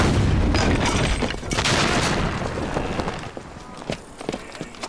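A ship's cannon firing hot shot aboard a naval vessel, a loud booming blast that opens the clip and then rumbles and decays over several seconds, with scattered clatter and commotion following.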